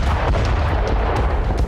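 Cluster bomb explosions in Ukraine form a dense, loud, continuous rumble of overlapping blasts and sharp pops, with no voices.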